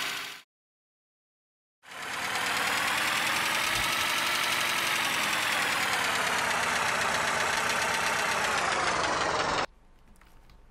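A vehicle engine runs loud and steady in the Unturned survival game, a sustained rough drone lasting about eight seconds after a short silence, then cutting off abruptly to a quieter background.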